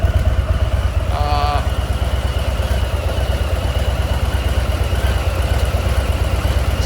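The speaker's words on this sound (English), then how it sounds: "it's hard to get by the original Harley sound" A 2022 Harley-Davidson FXLRST motorcycle with stock exhaust idles with a steady, rapid low thump, loud and close, with a brief higher tone chirping briefly early on.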